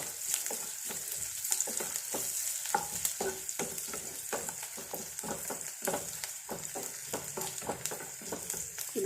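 Green chillies sizzle and fry in hot oil in a pan for a yogurt curry, a steady crackling hiss broken by frequent stirring scrapes and taps, close and continuous with no voices.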